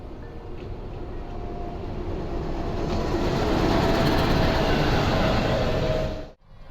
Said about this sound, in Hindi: फुलाद रेलवे स्टेशन पर अपनी ट्रेन का जो लोकोमोटिव है वो रिवर्स डायरेक्शन में जाएगा